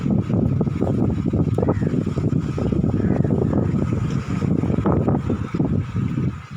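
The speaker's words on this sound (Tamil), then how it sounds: "காற்று உரமாக நிற்கிது அதனால் காற்று ஈராட்டி போட்டால் தான் போக முடியும்" Strong wind at sea buffets a fishing boat, a loud, steady roar of gusts and wind noise on the microphone that continues without a break.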